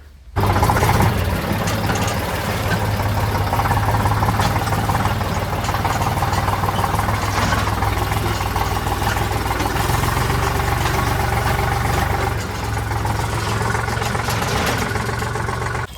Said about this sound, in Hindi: बाबा कर रहे हैं ट्रैक्टर खड़ा